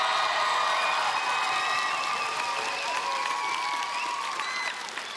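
Studio audience on The Voice of Ireland battle rounds applauding and cheering loudly, a sustained wash of clapping with whoops and shouts layered on top, fading slightly at the end.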